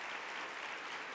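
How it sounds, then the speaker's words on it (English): Audience at a conference opening plenary applauding for the CEO, a continuous, even patter of many clapping hands, fairly soft and distant throughout. "So let's give it another round of applause for Jonathan,"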